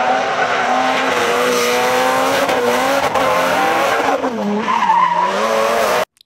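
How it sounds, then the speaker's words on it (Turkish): Synthetic drifting car with loud, continuous tire squeal over a revving engine, the pitch wavering as it slides, sustained for about six seconds before cutting off abruptly. "Drift atan bir araba."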